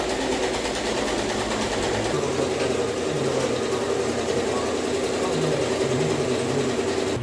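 A sewing machine stitches a dinghy sail in a steady, continuous mechanical whirr, loud and close, with a faint shift in motor pitch partway through.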